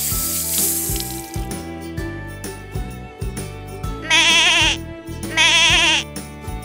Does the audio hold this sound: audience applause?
no